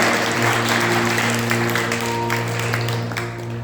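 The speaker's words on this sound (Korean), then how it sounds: "축복의 박수 받겠습니다." A church congregation applauds during a Sunday worship service, steady dense clapping with sustained tonal hum from a keyboard or organ underneath, holding level before easing off slightly at the end.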